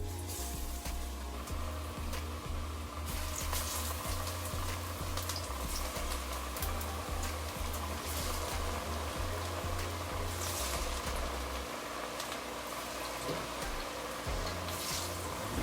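Plantain slices fry in a pan of hot oil, giving a soft, steady sizzle and crackle that holds for the whole stretch without pauses, fairly quiet with faint kitchen background.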